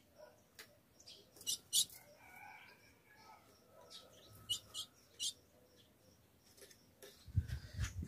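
A female ultramarine grosbeak in an aviary gives repeated short, sharp calls close by, interspersed with chirps and soft rustling, ending with a low thump.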